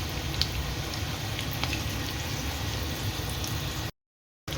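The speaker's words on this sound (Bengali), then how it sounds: "এখানে এক চোট ফুটছে" A chicken dish cooked with gondhoraj lemon leaves bubbles in a pot with a steady, close hiss and gurgle, then cuts out briefly near the end.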